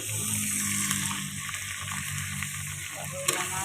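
Shrimp paste (alamang) sizzles and crackles steadily in a pan with garlic and onion, a continuous close frying hiss with occasional stirring.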